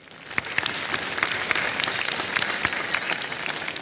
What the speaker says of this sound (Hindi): और इस पे भी तालियां बज जानी चाहिए